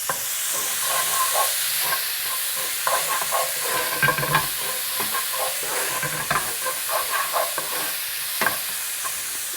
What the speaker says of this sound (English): a little bit of oil, and then goes in the 2 finely chopped up onions